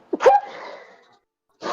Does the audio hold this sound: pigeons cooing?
no